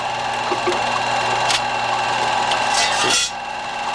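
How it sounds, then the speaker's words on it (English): A sardine can cover stacker machine, slowed to about 8 cans a minute from its usual 300, runs with a steady mechanical hum and rasping, scattered clicks and clanks, then a louder clatter near the end before it settles. "this machine's only running 8 cans a minute now"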